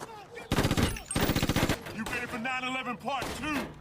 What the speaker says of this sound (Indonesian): Bradley yang telah mengetahui hal tersebut langsung menembak Pedro dan juga Roman